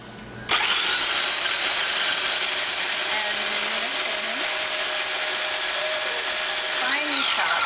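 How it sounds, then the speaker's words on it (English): An electric food chopper switches on and whirs steadily for several seconds as it chops garlic, a loud, even motor drone that cuts off abruptly at the end. "I'm going to throw it in the chopper because I'm being really lazy"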